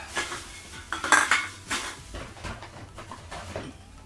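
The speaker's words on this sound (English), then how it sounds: "The noises of beer cans rattling around let you know it's authentic." Metal beer cans rattle and clank around, close and irregular, with scattered knocks and scrapes of varying loudness.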